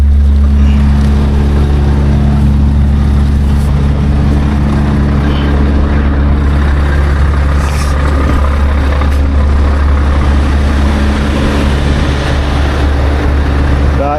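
A truck engine idles steadily while hitched to a trailer, a loud, close, continuous low rumble with a constant drone throughout and no talk over it.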